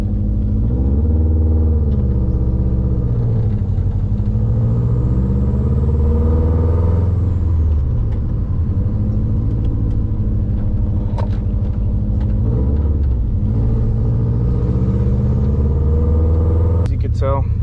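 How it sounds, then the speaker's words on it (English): A Subaru WRX engine with a fault runs at a steady, very high idle, a loud close droning rumble with slowly wavering harmonics and occasional small clicks, and a voice talks over it. "the car is on super high idle right now."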